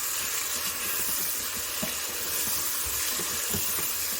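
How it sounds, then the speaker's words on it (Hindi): Onion and tomato sizzle while being roasted in a Zaicon pressure cooker, a steady close hiss that holds evenly with no break. "ये देखें कितने अच्छे से इसकी भुनाई हो रही है।"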